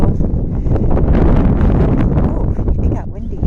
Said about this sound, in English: oh, it got windy